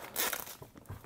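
A blade slicing through the plastic wrap on a Xiaomi Mi 9 phone box gives a brief, close, zipper-like rasp lasting about a second, followed by a couple of soft taps.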